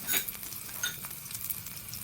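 Chopped onion frying in hot oil for a tempering fries with a soft, steady sizzle for two seconds, with a few faint clinks of a utensil against the pan.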